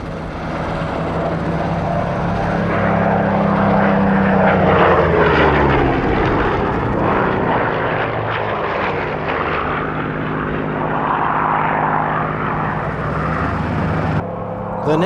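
Early-mark Spitfire propeller fighter roaring overhead in an airshow display at Duxford, its engine note swelling loud and steady before easing slightly, alone with no voices.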